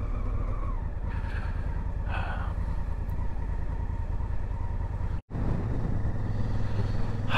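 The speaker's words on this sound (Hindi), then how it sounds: "ये मैं बाइक चला रहा हूँ ना" A motorcycle ridden on a mountain road in Jordan between Petra and Amman, its engine a steady low drone with wind rush, continuous and close, with a brief dropout near the end.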